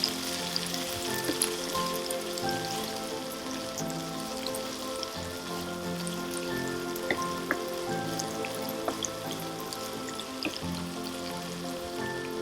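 Crushed shallots and green chillies sauté in hot oil in a pan for a chicken dish, giving a continuous close crackling sizzle with fine popping, steady throughout and without voices.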